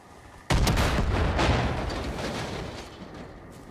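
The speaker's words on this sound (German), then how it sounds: "erstmal müssen wir, glaube ich, hier das Ding in die Luft sprengen" A structure is blown up in the video game Far Cry 5: one sudden, loud, close blast hits with a deep boom, then rumbles and decays slowly over the next few seconds.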